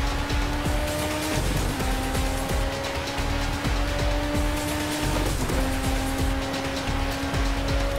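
Group 5 BMW race car in a Project CARS racing game, engine held at a steady high-revving drone with sustained tonal whine, brief dips at gear shifts and faint tire squeal, loud and continuous.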